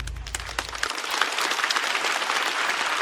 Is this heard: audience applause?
yes